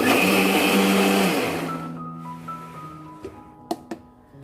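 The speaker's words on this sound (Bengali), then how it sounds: "তারপরে ব্লেন্ড করে নিচ্ছি।" An electric blender whirs loudly through a semolina, water and yogurt batter, then winds down and stops, followed by a few sharp clinks of the jar.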